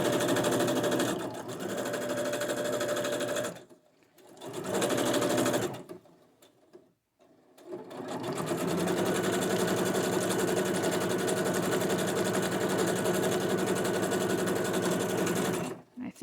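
A sewing machine stitches scrap paper into flowers, running loud and close in long fast bursts that shake the table, with brief stops between runs and a person talking over it.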